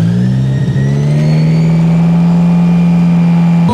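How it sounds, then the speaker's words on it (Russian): A light aircraft engine runs up to full power for takeoff, a loud, steady droning roar that rises briefly in pitch and then holds constant and close throughout. "Вывожу мотор на полную мощность"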